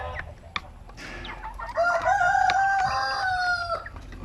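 A rooster from a flock of fast-growing chickens, some with beards, lets out one long loud crow close by, with a few soft clucks and small noises before it.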